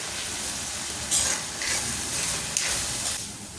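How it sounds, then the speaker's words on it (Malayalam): Crushed ginger, garlic and curry leaves sauté in a pan for chicken curry, a constant hissing sizzle with occasional louder flares as they are stirred. "ഇനി ഇതിലേക്ക് ഇഞ്ചി വെളുത്തുള്ളി ചതച്ചത് ചേർക്കുക കൂടെ തന്നെ കുറച്ച് കറിവേപ്പിലയും കൂടി ചേർത്ത് വഴറ്റുക"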